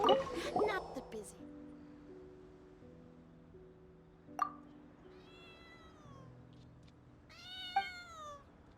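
A cat in Genshin Impact meows in a few separate, rising-and-falling calls, moderately loud against quiet game ambience with an earlier noisy burst, and a person talks at times.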